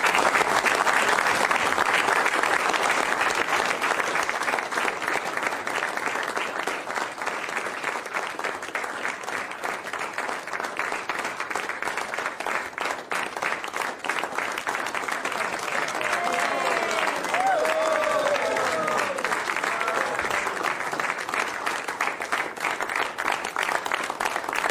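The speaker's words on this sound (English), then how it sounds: "you can hear Republicans there cheering in the Oval Office" Republicans applauding and cheering in the Oval Office after a bill signing, dense sustained clapping from a crowded room that runs unbroken for about twenty-five seconds, with scattered voices and whoops mixed in.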